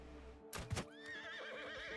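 A horse in the medieval video game Mount & Blade Knightfall lets out one loud, close whinny that wavers and trails off, after a burst of thudding impacts, over a low droning background.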